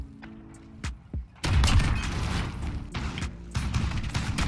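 Call of Duty Modern Warfare skirmish gunfire: after a few quiet clicks, a loud, sustained burst of rapid shots breaks out and keeps going, with short gaps between the heavy bursts.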